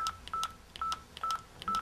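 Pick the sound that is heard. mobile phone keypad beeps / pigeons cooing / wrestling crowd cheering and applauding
mobile phone keypad beeps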